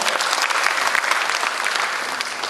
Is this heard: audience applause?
yes